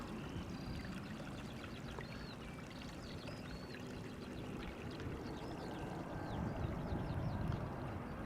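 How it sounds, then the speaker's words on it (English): A man-made waterfall at Amsterdam Schiphol Airport gives a steady, even rush of falling water throughout, with faint bird chirps scattered over the top. "You will also hear the calming sound of this man-made waterfall"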